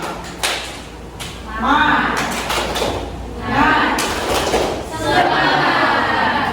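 A high school class in Pati claps together in a rhythmic spirit-clap pattern, several loud bursts of massed hand clapping in a classroom, with voices between the bursts.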